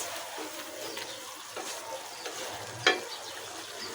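Green chilies and taro stolons go into a sizzling pan for a prawn curry, giving a steady soft fry with light stirring scrapes and one sharper clatter near the end, no talking.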